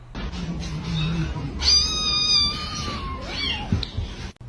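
A kitten meows clearly at close range: one long, drawn-out, high-pitched mew with a falling pitch, followed by a shorter cry. Background rumble and handling noise run underneath.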